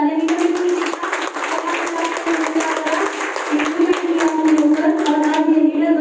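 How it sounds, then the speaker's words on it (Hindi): An audience at a Karnal motivational seminar gives an introduced man a loud round of clapping. Crisp, fast claps sound close over a steady droning voice or music underneath, and the clapping builds a little toward the end. "तो एक बार भैया के लिए जोरदार तालियां दीजिए"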